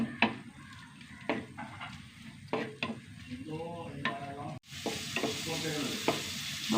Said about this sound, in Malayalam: എണ്ണ ചൂടായി ഇതിലേക്ക് ഒരു സവാള ചെറുതായിട്ടൊന്ന് വഴണ്ട് വരണം